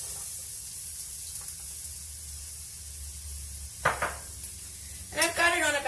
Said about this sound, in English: we're going to add 1 small diced onion to the pan.